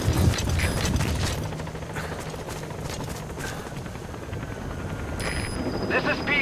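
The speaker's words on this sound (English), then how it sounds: "Support helicopter has arrived." Support helicopter arriving in Metal Gear Solid V: The Phantom Pain, a steady rotor whir and mechanical rumble that holds throughout with a brief bright tone near the end, no speech.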